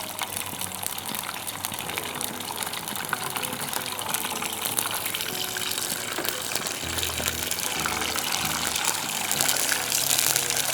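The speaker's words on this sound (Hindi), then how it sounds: "पानी और तेल मिला है ना, इसलिए वो आवाज़ कर रहा है।" Water and oil sizzling and hissing steadily in a pan on the stove while a choux pastry dough is prepared, a dense, continuous bubbling rush with a low rumble joining toward the end, no voices.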